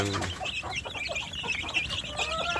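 Village chicks peep in rapid, high, overlapping chirps while hens cluck lower underneath, a continuous busy flock sound close by with no talking.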